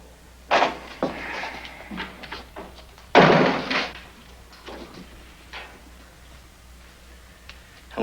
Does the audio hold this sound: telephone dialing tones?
no